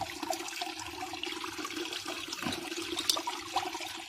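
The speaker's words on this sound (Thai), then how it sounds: "น้ำตกสามชั้นจากมอเตอร์ จิ๋วๆ นะครับ" Continuous splashing and trickling of a small three-tier water fountain driven by a 12V 20W DC pump, with water spilling steadily over its tiers at close range.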